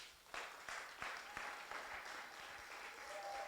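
Congregation clapping in a church service, rhythmic unison claps in steady beats, moderately loud with room reverberation and some crowd murmur.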